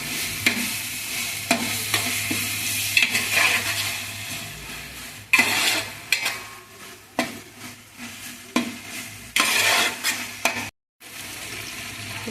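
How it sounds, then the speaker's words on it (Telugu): Ginger garlic paste frying in a large pot for pulao, a steady close sizzle broken by repeated scraping stirs and occasional metal clinks, with a brief dropout near the end. "అల్లం వెల్లుల్లి పేస్ట్ బాగా వేగాలండి"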